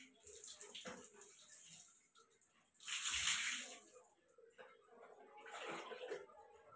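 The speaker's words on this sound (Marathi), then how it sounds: "मी आधी सर्व केस धुवून घेते पाण्याने" Water splashes and pours over long hair while it is being washed, in uneven bursts with one louder rush in the middle, fairly faint and close.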